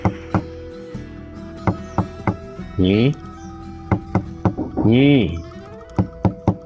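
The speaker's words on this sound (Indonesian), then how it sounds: "warga memberanikan diri mengetuk pintu rumah Nyirondiah" A series of sharp, separate knocks on the door of a house, loud and close and spaced irregularly, with a voice calling out twice in drawn-out tones between them.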